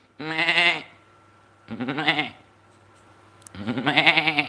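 A human voice imitates a goat bleat three times, each a loud, close, wavering, nasal bleat separated by short pauses.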